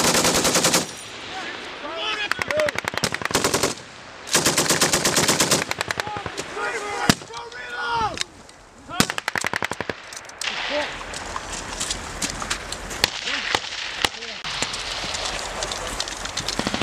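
Machine gun fired in repeated long bursts at a target during a cold weather military training exercise in the Nordic region, loud and close, with shouted commands between bursts.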